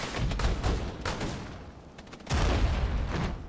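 Tank-mounted machine guns fire at Mi-8 helicopters in the video game Regiments, as dense rattling bursts with a loud, sustained stretch near the end over rumbling battle noise.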